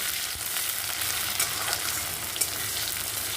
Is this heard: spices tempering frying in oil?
yes